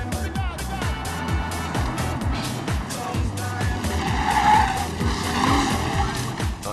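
A fast car accelerates hard, its engine revving through gear changes while the tires squeal continuously, loud and close.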